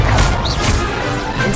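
Fiery spell cast in the game Hogwarts Legacy: a dense, loud crackling burst of flame with a crashing, whooshing edge that stays full and steady for the whole moment, with no voice over it.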